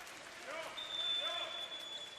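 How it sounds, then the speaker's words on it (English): A basketball arena crowd roars steadily after a three-pointer in a Japanese B.League game between the Ryukyu Golden Kings and Hiroshima Dragonflies, with whistles and sneaker squeaks cutting through the sustained noise. "That's gonna bring the crowd to its feet."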